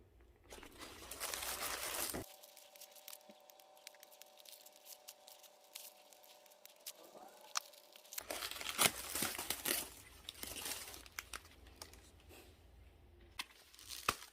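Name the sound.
newspaper crinkling while handling a cactus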